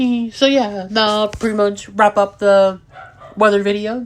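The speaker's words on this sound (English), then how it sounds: "I apologize about my dogs in the background making some background noise" Dogs bark and yip indoors at the same time as someone speaks close by, with short, pitched barks repeating under and between his words.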